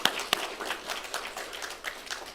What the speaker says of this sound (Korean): 우리 한번 감사의 박수 올려드리겠습니다